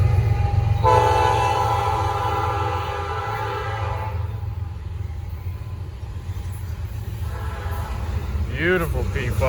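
A Norfolk Southern P5 freight train sounds a long, loud horn blast as it rumbles past nearby, the heavy rolling roar continuing after the horn stops, with a second short horn near the end.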